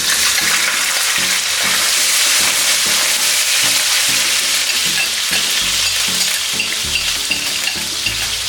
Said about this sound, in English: I will saute the ground provision a little bit before adding the fish.